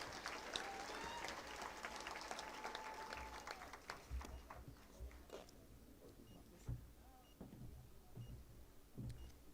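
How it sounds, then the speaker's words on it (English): A graduation audience claps in a large hall, a dense patter of many hands that gradually thins and fades toward the end, heard at a distance and quite faint. "Can we get another round of applause?"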